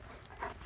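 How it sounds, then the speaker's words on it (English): A therapeutic stress dog gives a short, faint whimpering sound, a brief soft vocal burst near the end of a quiet moment with no voices heard. "not have a therapeutic stress dog"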